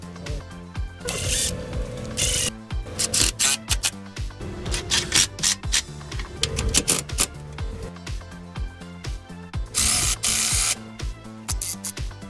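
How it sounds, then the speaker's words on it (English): A hand ratchet clicks in quick repeated bursts while tightening oil pan bolts on a 2002 5.3 LS V8 engine, close and crisp with short pauses between runs. "After tightening all the bolts around the pan"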